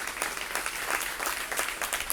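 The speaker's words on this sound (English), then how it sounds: "Please give them a round of applause." Brief burst of dense audience applause for city council candidates at a public forum, many hands clapping loudly and evenly for about two seconds.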